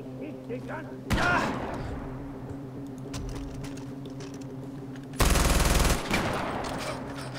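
Bursts of rapid gunfire from an StG assault rifle in Far Cry 4, with a loud sharp volley near the start and another heavy burst later, over a constant droning background.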